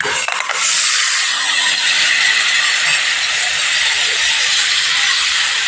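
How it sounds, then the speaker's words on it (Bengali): A brief clatter, then a sudden loud, sustained sizzle as beaten egg is poured into a hot wok, a dense steady hiss that continues close by. "ডিমটা মাখা অবস্থায় কড়াইতে আমি দিয়ে দিচ্ছি"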